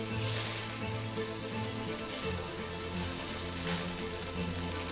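Salmon sears skin side down in a hot pan, a steady, close, fairly loud sizzling hiss that holds evenly throughout without talking.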